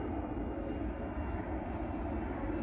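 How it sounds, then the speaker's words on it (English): An airplane passing overhead above a house, a steady broad engine roar that stays loud and even for the whole clip. "That is the sound of an airplane flying over my house"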